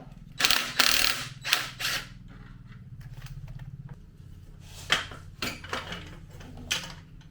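Ratchet wrench undoing bolts on the oil line of a Suzuki DR650 motorcycle, close clicking bursts in several runs separated by pauses and low background hum.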